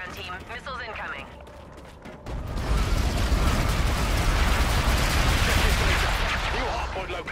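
Missile strikes in a video game firefight, a dense, sustained roar of explosions and rattling gunfire that breaks in suddenly after a radio voice and keeps rumbling loud to the end.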